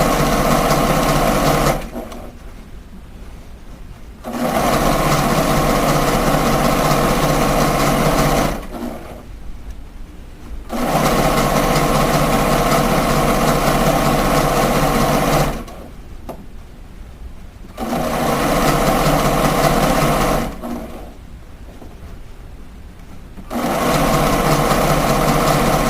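A sewing machine runs basting stitches on a beret in four loud, steady whirring bursts, each separated by a couple of quiet seconds as the fabric is adjusted.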